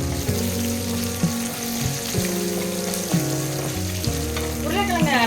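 Potato fry with curry leaves and asafoetida sizzles and crackles steadily in a pan, heard close and loud, with stirring noises and background music running beneath.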